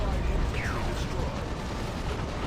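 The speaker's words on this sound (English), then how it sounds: "Autark here just bullying some poor heretics with grenade launchers" Grenade launcher fire and blasts in the Warhammer 40k: Dawn of War 2 strategy game amid dense battle noise, a steady rumbling roar with a brief whistling shot, while a commentator talks over it.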